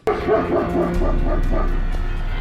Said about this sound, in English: it's making the dogs bark like crazy too